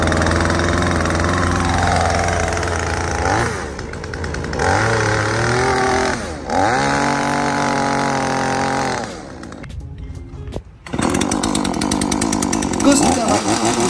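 An Oshima OS40 LT 58cc chainsaw is pull-started and runs loudly up close, its engine rising and falling through several revs and idle stretches, briefly dropping off before roaring again, with no talk over it.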